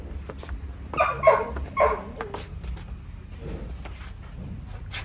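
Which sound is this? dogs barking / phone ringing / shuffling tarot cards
dogs barking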